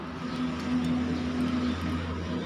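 A steady engine drone hums at a moderate distance, swelling slightly as a car passes, with no voices.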